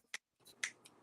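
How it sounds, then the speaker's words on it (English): Finger snaps at a poetry reading: three or four crisp, separate snaps with short gaps between them, fairly close and fairly quiet, over a faint room hum. "Finger snaps."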